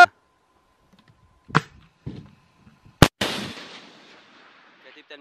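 Gunfire aimed at a twin 37mm cannon at a checkpoint on the entrance to a village near Hama: sharp cracks and bangs, with a loud near blast around the middle followed by a rolling echo and faint distant noise.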